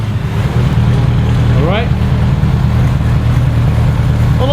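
A Tiga SC81 S2000 race car engine runs loudly in the pits with a steady low, rough drone and brief rising revs, close by and continuous.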